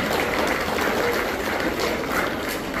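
Steady, dense applause from an audience at a Shivjayanti talk, continuous and fairly loud throughout with no pauses or voices above it.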